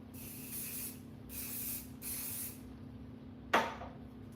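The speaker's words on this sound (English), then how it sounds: "Let's do our comb out and a little holding spray." Holding spray misted onto freshly silk-pressed hair in three quick hissing bursts, close and soft, followed by a sharp click near the end.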